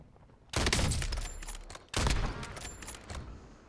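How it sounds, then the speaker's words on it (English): Two loud bursts of rapid video game gunfire, the second starting just after the first fades, close and dense with sharp cracks, no talking. "I'm taking fire."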